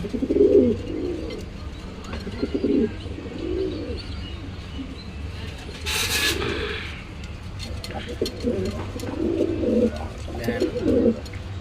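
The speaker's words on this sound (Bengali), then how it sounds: "দেখেন নরে কিভাবে ডাকতেছে।" A male pigeon in a pair kept in a small home balcony loft coos in several repeated low, throaty bursts, with brief chirps and a short sharp noise around the middle.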